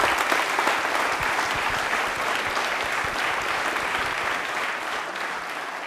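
Loud, sustained audience applause fills a Rajasthani general-knowledge quiz show studio, a dense, steady wash of clapping that runs the whole stretch without a break.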